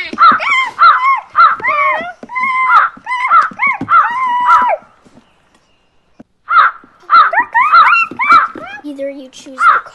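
Crows caw loudly and repeatedly in rapid overlapping bursts, pausing briefly before another harsh round of cawing, close and dominant.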